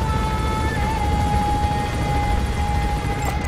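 A helicopter in the video game Metal Gear Solid 5 drones steadily and loudly throughout, a constant rotor and engine hum with a fixed whine, close and unbroken.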